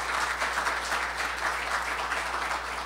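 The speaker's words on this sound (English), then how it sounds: "Let's give them a big round of applause." Steady audience applause fills a conference hall, a dense continuous patter of many hands clapping at even loudness with no speech over it.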